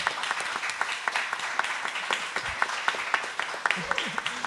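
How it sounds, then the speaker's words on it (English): Audience clapping at a Dungeons & Dragons panel marking the game's 50th anniversary, a moderate steady applause spread across the room with faint voices and murmurs underneath. "so a round of applause"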